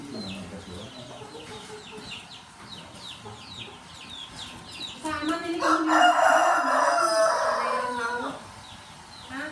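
Domestic chickens at a house where dogs are kept, clucking and squawking nearby with a loud burst of calls midway, while people talk over and around them.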